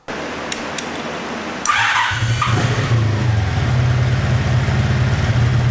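A Honda Sabre motorcycle engine starts up after a brief hiss and settles into a steady, even idle, close by and loud, with a low rumbling drone that holds through to the end.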